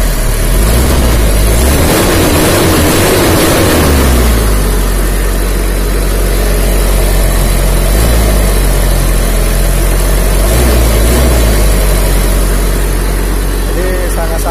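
The diesel engine of a 1998 Toyota Kijang Kapsul idles loudly and steadily up close, its low rumble continuous and smooth, with a voice talking over it at first.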